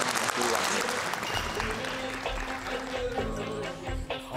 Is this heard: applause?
yes